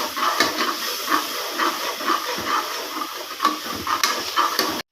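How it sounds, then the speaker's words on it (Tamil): Curd poured into a pan of hot masala for vegetable biryani sets off a steady, close, bright sizzling hiss that pulses unevenly before cutting off abruptly. "அதனால் தயிரை ஊற்றுறேன்."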